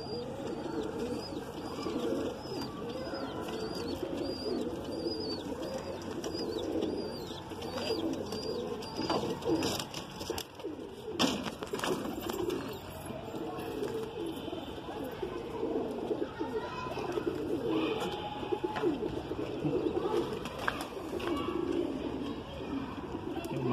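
Madrasi pigeons coo continuously in a loft on a hot day, a dense layered murmur of throaty calls with occasional wing flutters and chirps, steady throughout.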